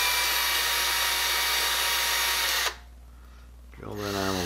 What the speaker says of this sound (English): So I'm gonna use a 16th inch drill.